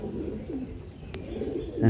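Pigeons freed by a seller at a bird sale in Hooghly, giving soft, low cooing close by, with a brief sharp tick midway and a rising flutter-like burst at the end.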